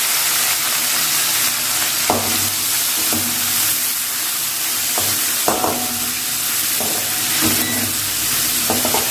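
Shallots, cumin and dried chili stir-fry in a hot pan with a steady, loud sizzle, while a spoon scrapes and knocks against the pan every second or so.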